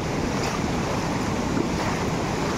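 The strong current of the Bubunawan River in Libona, Bukidnon, rushes as a loud, constant broadband roar with no breaks, mixed with some wind buffeting on the microphone and no voices.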